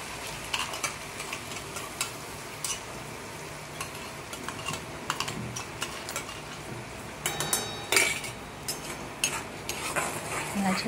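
A pot of ground masala for bottle gourd kofta curry is stirred with a spoon, giving irregular scraping and clinks over a faint sizzle, close and steady for about ten seconds with no talking.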